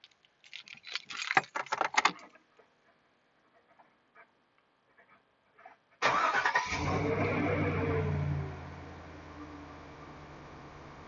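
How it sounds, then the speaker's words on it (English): Scattered clinks and rattles give way to a car engine with a random misfire code that starts up loudly, then settles into a steady, even idle. "it's idling very smooth."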